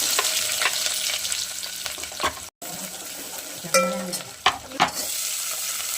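Sliced onion sizzles steadily in hot oil with whole cloves, black pepper, star anise and cinnamon, while a spoon scrapes and stirs the pan now and then; the sizzle breaks off for a moment, then carries on.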